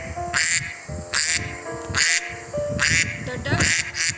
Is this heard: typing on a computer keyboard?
no